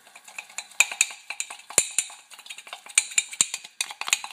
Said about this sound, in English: Now mix it all together